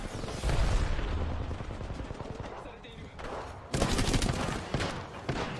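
Rapid automatic gunfire bursts in an Apex Legends firefight, a dense rattling volley at first, easing off, then a second loud sharp burst near the end, with voices talking underneath.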